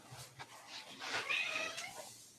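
A confined cat meows and wails indoors in a few drawn-out, rising cries of moderate loudness. Faint breathy noise sits between the calls.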